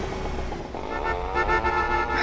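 A C90 motorcycle engine in GTA San Andreas buzzes steadily close up, its pitch rising as it revs toward the end, with no talk over it.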